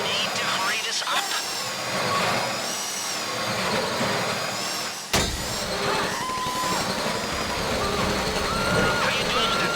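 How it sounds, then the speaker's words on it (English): A heist drill bores into a bank vault door in GTA Online during a Fleeca Bank job, a steady high mechanical whine running throughout amid game noise, with talk over it. "How you doing with that drill?"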